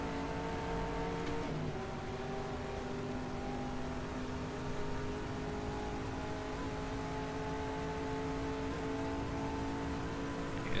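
Race car engines in the racing video game GTR2 at the 1964 12 Hours of Reims, wet track, with a continuous loud droning engine note and shifting pitch as cars run, no talk.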